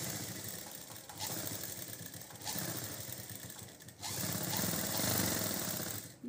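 A sewing machine runs a double stitch along the neckline of a lined jacket, a continuous loud, buzzy motor drone with slight changes in speed and brief dips between passes.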